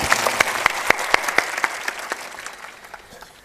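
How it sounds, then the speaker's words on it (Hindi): Audience applause at a Hindi religious discourse, a burst of sharp claps that starts strong and gradually thins and fades over a few seconds, with no talking over it. "आपसे मैं कहूँगा कि जोरदार ताली भी बजाना"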